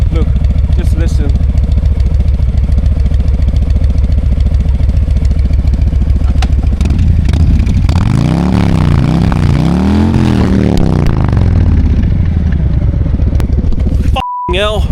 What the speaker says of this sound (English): And also, just hear this exhaust.